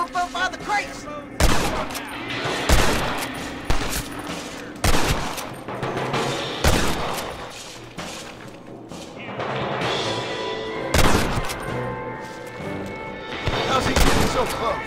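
Winchester rifle shots and other gunfire in Red Dead Redemption, a western game: sharp, loud reports spaced irregularly over a busy battle mix, with someone talking between shots.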